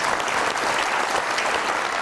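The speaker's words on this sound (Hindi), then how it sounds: "बहुत सारी तालियां इनके लिए।" Dense, continuous applause fills a television comedy talk show studio, a loud, even wash of many hands clapping throughout the short stretch.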